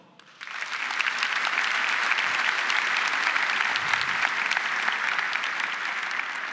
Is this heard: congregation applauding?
yes